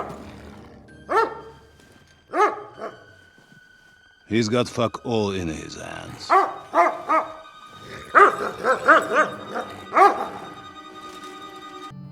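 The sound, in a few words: dog barking in video game Kingdom Come: Deliverance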